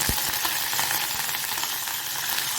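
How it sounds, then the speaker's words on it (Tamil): Steady hissing sizzle of curry leaves frying in hot oil, continuous and fairly loud, with a few faint clinks and no voices. "இப்போது கருவேப்பிலை நல்லா காஞ்சிருச்சு,"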